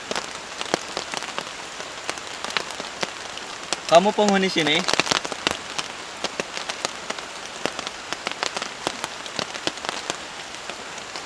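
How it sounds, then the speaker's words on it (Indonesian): Heavy rain pours steadily onto a forest campsite at night, a dense hiss with scattered drop ticks throughout, while someone speaks briefly near the middle. "ini kedengaran paling kencangnya itu hujan teman-teman"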